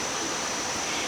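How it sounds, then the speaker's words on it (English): Small waterfall in a temple garden in Chiang Mai pours steadily as a close, even rush of water, filling the whole short moment with no voices. "it has a nice little waterfall."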